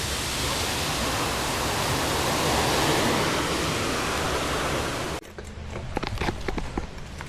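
A creek rushing along its bed, heard as a loud, dense wash of flowing water for about five seconds before it cuts to a quieter scene with light scattered knocks.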